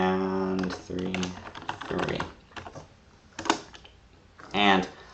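Someone enters Python code in IDLE on a computer keyboard, with short clusters of close key clicks spread between stretches of spoken voice.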